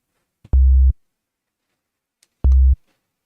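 A synthesizer sine wave tone sounds twice, each a pure, loud, low steady note of about half a second, separated by silence.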